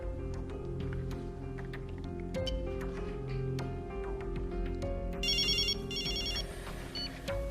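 A phone ringtone sounds for an incoming call, a short electronic chiming pattern repeated twice in quick bursts, heard over a steady low background hum.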